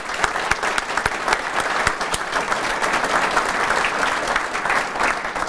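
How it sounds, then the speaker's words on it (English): Audience applause after a leadership talk, a full, sustained clatter of many hands with a few sharper individual claps standing out, loud and steady throughout. "Let's give Chris a round of applause."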